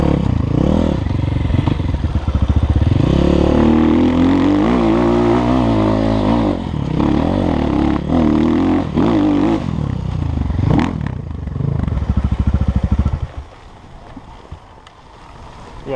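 An enduro motorcycle engine runs on a hilly trail, a loud close droning roar with rising and falling revs and some rattling, dropping away abruptly near the end.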